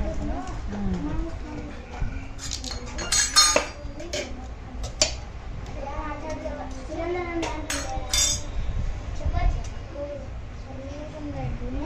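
Spoons and cutlery clinking against dishes at an orphanage meal, a few light metallic chinks scattered under ongoing chatter that includes children's voices.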